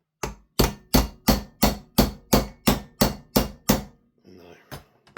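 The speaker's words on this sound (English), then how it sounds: "Maybe if I pull back on it and I just tap it with a hammer." A hammer taps on the spring assembly of an airsoft gun, about ten sharp, evenly spaced metallic knocks close by, followed by a brief rustle and a couple of lighter taps.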